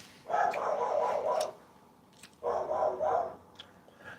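A guard dog barks in two loud, sustained bursts close by, set off by someone in a neighbour's driveway, with a short quiet gap between the volleys.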